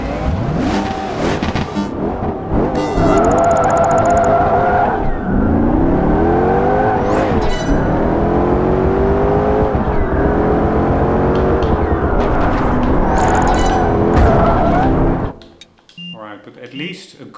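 Race cars in Project Gotham Racing 4 rev and accelerate off the start line, loud engines climbing through repeated gear sweeps for about fifteen seconds before cutting to quieter sound, with brief electronic beeps mixed in.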